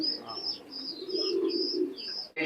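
Teddy pigeons coo in a low, steady murmur close by, with repeated high chirps layered above it and a brief rustle at the end.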